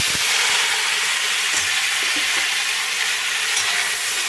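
Chopped tomatoes fry in a pan with dried red chillies for a Bengali tomato chutney, a loud continuous sizzle broken by a few soft scrapes and knocks of stirring, close up with no talk.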